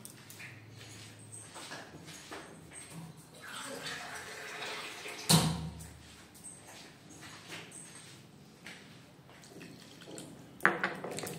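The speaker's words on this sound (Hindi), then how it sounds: "इसमें पानी मिलाएंगे।" Water added little by little to a semolina and potato batter in a home kitchen, a running trickle and splashing that swells midway, with a sharp clatter and a few later clinks in the background.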